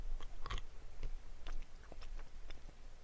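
Close-up chewing of popcorn, irregular crisp crunches and bites scattered across a few seconds, one sharper crack early on, nobody speaking.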